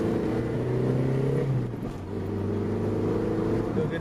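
Engine of a Toyota Celica RA65 while driving, a steady low drone with a brief dip in load partway through, like a shift, continuing close and even throughout.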